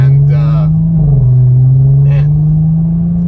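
Audi B9 S5 with a 034 Motorsport Stage 1 tune, its engine holding a loud, steady low drone that dips briefly and rises again, with someone talking over it in bursts.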